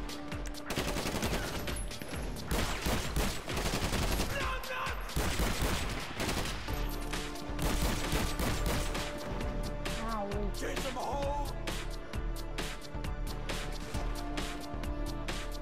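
Dense gunfire from several weapons, a sniper rifle among them, in a Grand Theft Auto V mission, loud and nearly continuous with sharp repeated cracks and bursts throughout.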